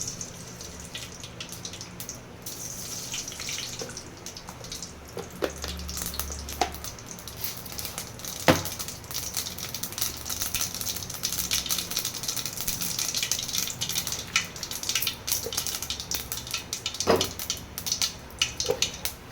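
Mustard seeds splutter in hot oil in a pan for bean poriyal, a dense stream of sharp crackles and pops with a few louder snaps scattered throughout.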